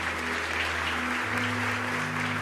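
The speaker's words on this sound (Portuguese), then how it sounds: "Podemos aplaudir o Senhor," Church congregation applauding at a communion service, a dense, even wash of clapping with a low steady hum running beneath it the whole time.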